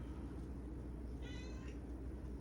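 A pet cat gives a single short meow, faint and somewhat distant, over a steady low background hum.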